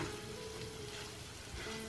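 Roasted raisins being stirred in a hot pan for raisin pickle, a soft steady sizzle and frying hiss with faint scraping, low in level and unbroken, no talking.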